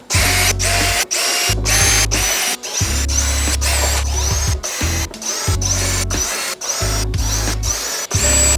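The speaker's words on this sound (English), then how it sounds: "Drill our pilot holes." A power drill whines in repeated bursts while drilling pilot holes in boards for a display case, revving up and stopping about a dozen times in a steady rhythm, close and loud.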